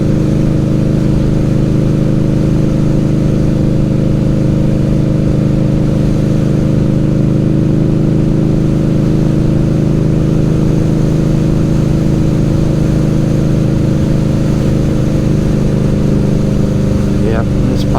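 An Indian Scout Bobber motorcycle rides along a Florida road, its engine a steady, loud low drone with a continuous rumble and wind roar throughout.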